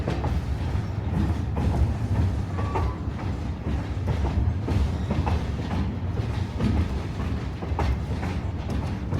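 A mountain train in Leadville, Colorado rumbles along the rails with steady clickety-clack and a continuous low roar, close and loud throughout.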